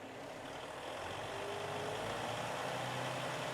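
A vehicle engine idles in a steady, continuous drone during a Midtronic DSS5000HD electrical system test. The sound is close and unchanging and has no talk over it.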